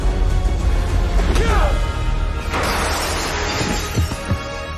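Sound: glass trophy centerpiece smashing to pieces

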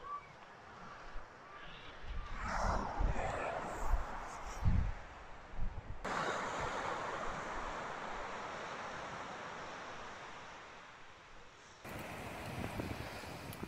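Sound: waves on the beach at Port Jackson, Coromandel

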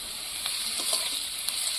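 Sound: potatoes frying in a pan

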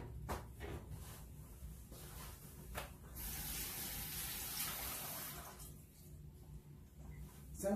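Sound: washing hands under running tap water

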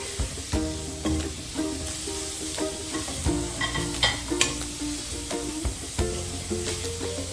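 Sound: chopped tomato sautéing with masala in a frying pan

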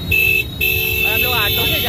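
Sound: heavy street traffic with horns in Chennai, from an auto rickshaw

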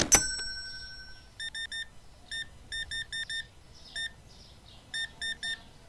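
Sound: customer ringing checkout bell, Supermarket Simulator video game

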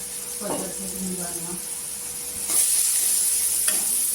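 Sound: gram flour (besan) roasting in oil with capsicum

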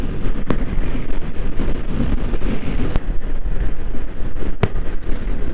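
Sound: strong crosswind while riding a CBR 250R motorcycle

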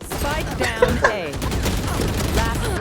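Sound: gunfire in the video game Valorant

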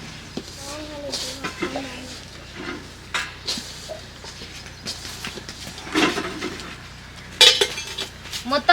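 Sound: mixing pani puri filling in a bowl

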